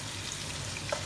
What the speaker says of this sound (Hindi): तो हमने 2 से 3 मिनट अच्छी तरह से इसकी हाई फ्लेम पर भुनाई करनी है।